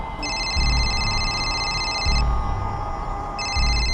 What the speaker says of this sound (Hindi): भाभी जी का फोन है